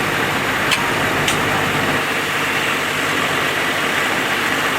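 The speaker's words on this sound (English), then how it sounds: "and the engine continues running." A light aircraft engine keeps running right after start-up, giving a loud, steady drone with a constant hum and faint clicks near the beginning.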